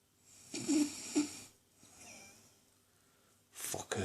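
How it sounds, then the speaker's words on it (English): Woman snoring, two rough, throaty snore breaths separated by a quieter inhale, followed by a harsher, breathy snort at the end, close and fairly quiet. "You snore all the time, mate."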